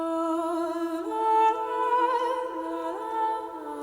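A dry mystical EDM synth line stripped of all effects, sustained tonal notes stepping between pitches with no reverb, steady and alone.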